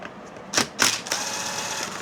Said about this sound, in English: here we're going to use the 27 millimeter to loosen up the bolts